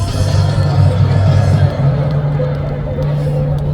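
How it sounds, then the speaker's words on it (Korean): A large crowd at a political rally in Gwanghwamun, Seoul, breaks into loud, sustained applause and cheering, a dense roar that carries on to the end. "큰 박수 한번 해주시기 바랍니다."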